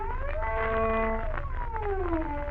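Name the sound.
violin glissando, finger pressed solidly on string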